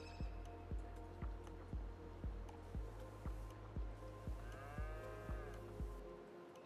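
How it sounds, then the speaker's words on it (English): Cattle moo repeatedly in Farming Simulator 25, a steady series of low, close calls roughly every half second over a continuous game ambience with a faint higher tone. "Bloody cows."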